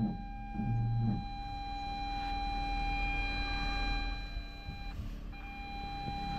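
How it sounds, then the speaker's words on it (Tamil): A car's reverse parking sensor sounds a continuous steady electronic tone close to an object, held for several seconds with a short break near the five-second mark, over faint low engine rumble. "கண்டினியூஸாக பீப் அடிக்குது"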